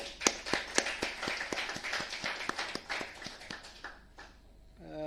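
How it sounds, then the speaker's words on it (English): Sparse, distinct claps from a small audience at an academic colloquium on academic freedom and democracy, fairly close and rhythmic, fading out after about four seconds. "another round of applause for Joe."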